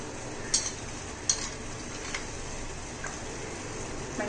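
Thattai, crisp Tamil rice snacks, fry in hot oil with a soft, steady sizzle that has calmed down, broken by a few faint clicks of stirring, quiet and alone.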